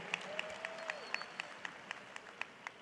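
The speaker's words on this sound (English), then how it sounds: "Let's have a round of applause for this great class of 2022." Applause for a graduating class of 2022 at a 97th annual commencement ceremony, a faint, distant wash of clapping from a large crowd with regular sharper claps standing out through the hall.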